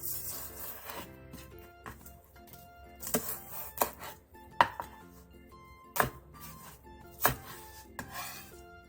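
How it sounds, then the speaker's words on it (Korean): A knife slices an onion into strips and cuts halved green onion into finger-length pieces on a cutting board, with irregular sharp chops standing out over a quiet background and no talking. "양파 1개를 채 썰고 대파 1개 반은 길게 반으로 가른 뒤 3번 정도 길게 칼집을 내 손가락 길이 정도로 잘라주세요"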